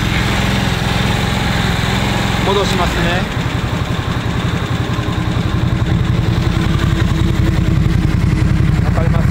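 Harley-Davidson Nightster RH975 fitted with a legal JMCA/Euro-compliant muffler, idling steadily with a low, even exhaust pulse throughout, while someone talks over it close by.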